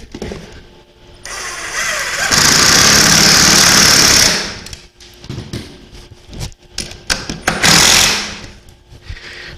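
Power screwdriver driving 4x25 screws into a spider-style nightstand, two loud sustained whirring bursts of a couple of seconds each separated by clattering handling noises, close by with no talk.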